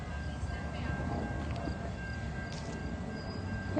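A Metra commuter train approaches a station at Edgebrook, a steady, dense rumble of wheels and rail noise that holds at an even level throughout, with faint higher squeals now and then.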